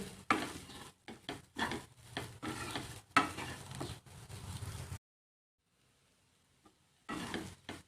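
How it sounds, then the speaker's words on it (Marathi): Kurdai, a crisp rice-wheat wafer made into a vegetable dish, being stirred and sautéed in a pan: repeated scraping and sizzling strokes in bursts, then a few seconds of silence before stirring resumes. "आणि पुन्हा याला परतून घेणार आहोत"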